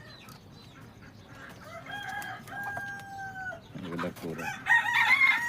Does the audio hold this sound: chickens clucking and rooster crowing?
yes